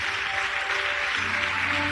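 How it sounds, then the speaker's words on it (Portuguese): A church congregation applauds together in a steady, dense wash of clapping, loud and close, with no pause. "vamos aplaudir o Senhor Jesus por cada vida que vai chegar aqui na frente"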